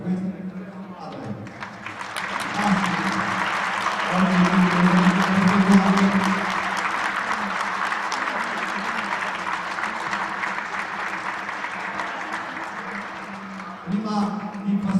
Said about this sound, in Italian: Vorrei subito dal pubblico presente applauso per queste squadre.